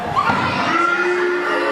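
Crowd noise from wrestling fans at a live independent show, a steady sustained roar with a raised voice rising over it, close and continuous for the whole short stretch.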